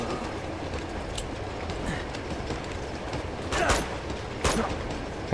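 A train rolling in the video game Uncharted 2, a continuous rumbling rattle with a couple of sharp bursts near the end, moderately loud.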